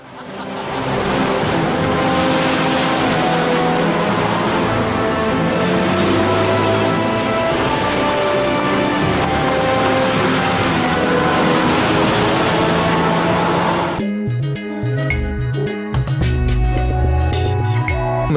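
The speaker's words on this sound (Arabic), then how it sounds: "إنهم متشوقون لأخذ هذه السيارة في جولة." A wood-gas car powered by trees drives off on a ride, its engine a steady, loud, sustained roar with broadband road and wind noise that changes character near the end, with no talk.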